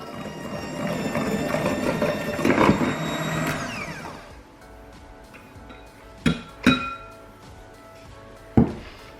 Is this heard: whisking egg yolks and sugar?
yes